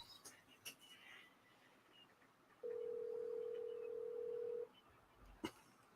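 A single steady electronic ringback tone sounds for about two seconds amid quiet background noise, with a couple of faint clicks around it.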